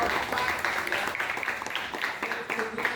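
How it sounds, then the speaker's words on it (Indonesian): A classroom of students claps during a classical guidance session, a continuous wash of many hands at moderate loudness. "Tepuk tangan buat"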